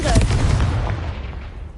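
Confringo fire spell exploding in Hogwarts Legacy, a loud booming blast at the start that rolls into a long, dense rumble and fades over nearly two seconds.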